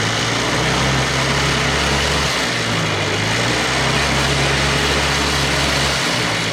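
A pit bike's small engine runs steadily at close range, a loud continuous buzzing drone with a brief dip in revs partway through, no voices over it.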